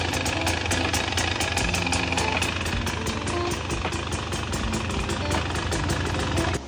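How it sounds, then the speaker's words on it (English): A 2024 Husqvarna TE 300 two-stroke motorcycle idles close by after a service, a steady rattling putter running throughout with a loud, even tone. "Let the bike run a little just to make sure the oil is going to go spinning through"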